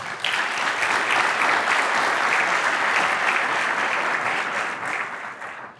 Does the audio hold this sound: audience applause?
yes